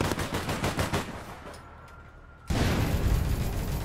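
Gunfire in a first-person shooter video game: a rapid run of loud shots at the start, a quieter lull, then a sudden loud burst of game sound after the midpoint.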